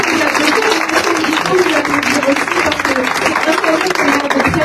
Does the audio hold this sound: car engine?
no